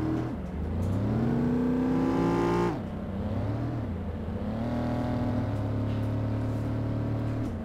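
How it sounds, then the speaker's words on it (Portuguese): Mercedes-Benz AMG GT S engine in the City Car Driving game revs hard, pitch climbing to a loud peak, dropping sharply, then settling into a steady, sustained drone with no voices. "gostei muito do som do motor dela."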